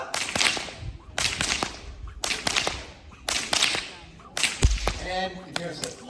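A stockwhip used for moving cattle on a farm cracks in a fast, repeated series, roughly one snap per second, loud and close, with a little background noise between cracks.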